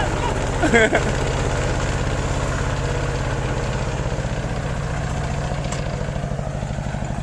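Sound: RT110 engine tractor running with a three-disc plough

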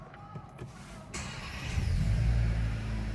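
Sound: SEAT Ateca FR 1.5 TSI car engine starting

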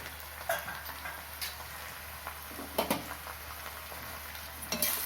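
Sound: sautéing bitter gourd in a pan

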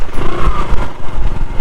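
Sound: motorbike riding on a road

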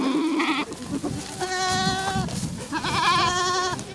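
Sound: goats bleating

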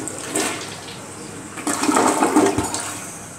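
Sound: toilet flush

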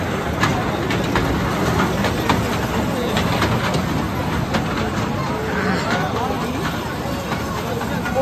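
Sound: fair ride train moving at craft bazaar

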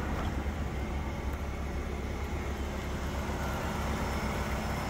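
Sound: Ford Focus 2.0 engine running

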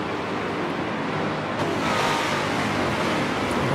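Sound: Le Mans prototype race cars in video game Forza Motorsport 7

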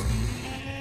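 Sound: sheep bleating in the video game Minecraft

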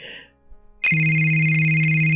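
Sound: phone ringing with a ringtone

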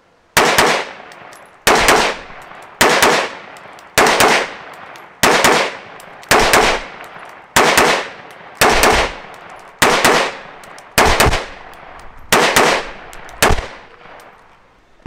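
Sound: rapid gunfire shooting Tula ammunition at targets

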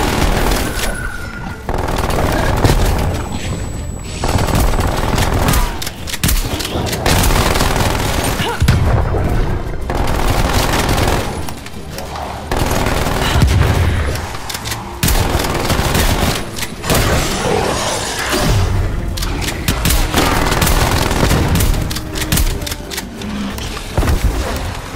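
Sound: sentry turret firing in Call of Duty Cold War Zombies, video game

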